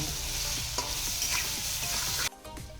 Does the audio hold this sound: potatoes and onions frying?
yes